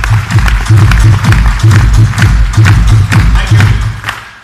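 Audience at a Safe Shop training event clapping loudly in a dense, rhythmic burst, heavy hand claps with some thumping, tapering off at the end.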